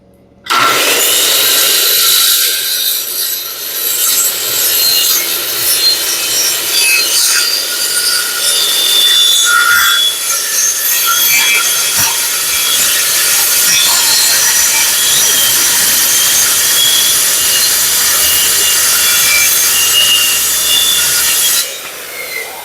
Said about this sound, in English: So just touched up with the grinder a little bit.